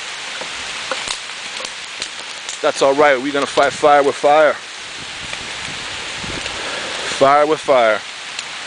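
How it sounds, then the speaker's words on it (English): Heavy rain pours down in a steady, loud hiss that runs throughout, with someone talking over it at two points. "We got a pour of rain coming down."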